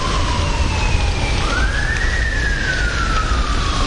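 An unusual siren sounds outdoors, a long sustained wailing tone that climbs then slowly sinks, carried over steady background noise.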